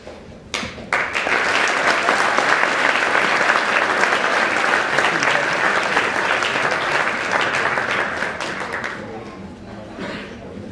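Audience at a sportsperson-of-the-year awards ceremony breaks into loud, sustained applause that starts abruptly, holds steady for several seconds and then tapers off, with a few voices underneath.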